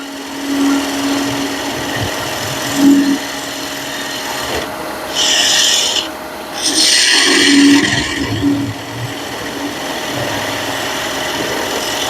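A woodturning tool rides the bevel and cuts a tapered wood blank on a spinning lathe, giving a loud raspy scraping that comes and goes in several bursts over a steady motor hum.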